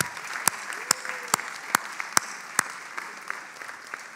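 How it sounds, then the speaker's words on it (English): Sparse rhythmic clapping at a hotel management school graduation ceremony, as first-year certificate students are applauded; sharp, evenly spaced claps stand out over a faint, thin patter of other hands in a large hall. "let's give our first-year students, certificate students, a big round of applause"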